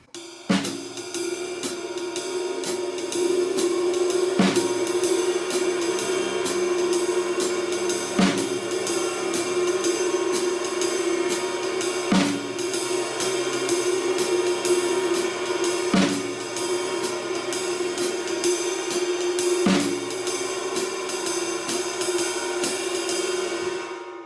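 A steady jazz groove with ride cymbal wash and snare hits landing regularly about every four seconds, played continuously without talk.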